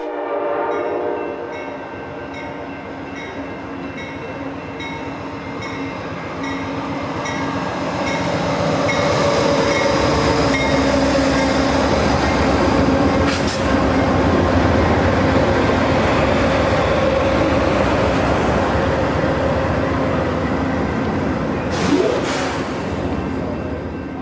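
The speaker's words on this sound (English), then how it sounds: "we watched as Amtrak Wolverine 352 slowly came to a stop" An Amtrak Wolverine 352 passenger train slowly comes to a stop at a snowy station platform in Battle Creek, with a long rumbling approach, rising wheel and brake noise, and a couple of brief horn-like tones near the end.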